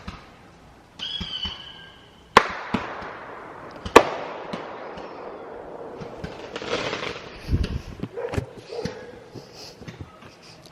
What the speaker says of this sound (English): Someone's lighting off fireworks.